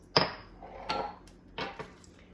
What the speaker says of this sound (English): while stirring with my quartz crystal